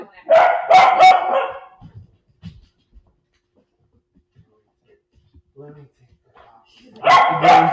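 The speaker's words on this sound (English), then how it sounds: "There's a new dog upstairs," A dog barks indoors in a quick pair of loud, close woofs, then goes quiet apart from faint shuffling, and a second burst of barking follows at the end.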